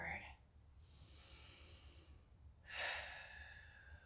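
Slow, audible breaths taken during a guided lower-back mobility workout: a soft inhale and exhale followed by a sharper, louder breath, close and quiet with no talking.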